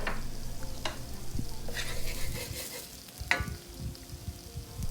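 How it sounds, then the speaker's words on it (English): Onions fry in added grease in a pan for a Southern breakfast hash, with a soft crackling sizzle broken by several utensil clicks and scrapes, close and fairly quiet. "Bit more grease to the pan before I put in those onions."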